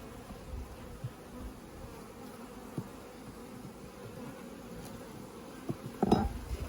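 Honey bees hum softly and continuously around a crowded hive holding swarm cells, with a few faint clinks and knocks rising briefly near the end.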